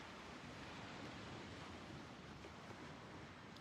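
Ocean surf washes in a steady, broad rush of water, soft and distant, with a windy hiss and no voices.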